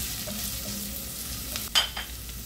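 Ginger, garlic, onion and chili sizzle in a hot pan, making a steady close frying hiss with a brief louder scrape of stirring near the end, and no talk.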